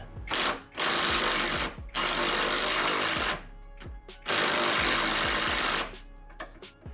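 Power tool driving a socket on an extension to loosen a bolt on a Jeep during a 3.5-inch lift kit install: loud, close buzzing bursts of a second or more, stopping and restarting several times.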